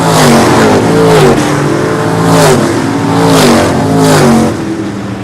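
Super modified race cars roar around a short oval track in a loud, continuous engine blare, with repeated rising and falling revs as cars pass close by at high speed.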